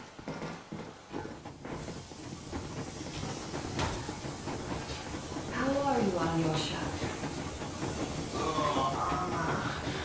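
Steam locomotive train rolling along in the game Metro Exodus, a steady hissing rumble with rhythmic clatter filling the background while people talk over it and a whistle-like tone rises midway.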